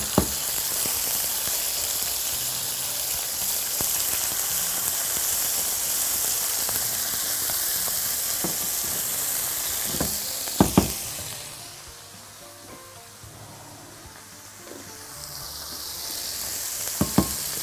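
Chicken breasts fry in oil in a pan with a loud, steady sizzle. A few sharp clatters sound partway through, the hiss dips quieter for a few seconds, and then it rises again.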